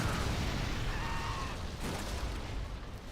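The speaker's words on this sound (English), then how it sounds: "explosion in the center here" An explosion set off by a flame tank in Generals Zero Hour booms as a loud, broad roar with rumbling crackle that stays dense and sustained, swelling again partway through, with no voices over it.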